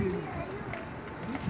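Zeere Teddy pigeons coo softly in a loft, with low repeated calls mixed under steady conversation nearby.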